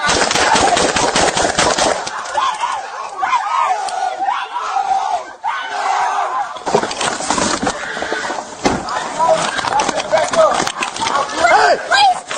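Police gunfire during a confrontation, a rapid burst of loud sharp shots at the start and again later, mixed with shouting voices, dense and close.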